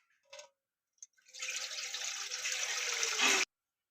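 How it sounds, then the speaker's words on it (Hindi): Two litres of water poured into a cooking pot on a stove for beef nihari, a sustained gushing splash lasting about two seconds after a couple of brief clinks, cutting off abruptly, with no talk. "2 लीटर इसने पानी पाना।"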